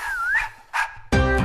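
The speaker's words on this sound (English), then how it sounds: "Good boy, that's my dog." A dog gives a short whimpering whine, then brief yelps, and ends on a louder bark-like burst, close and clear with no talking.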